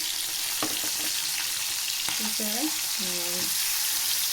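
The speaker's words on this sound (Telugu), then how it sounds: "ఇప్పుడు నూనె అటు వెళ్తుంది కాబట్టి ఒకసారి అని అంటే సరిపోతుంది ఇప్పుడు తిరిగేద్దాం" White pomfret fish frying in hot oil, a steady sizzle throughout with a few clinks and scrapes as the pieces are turned in the pan.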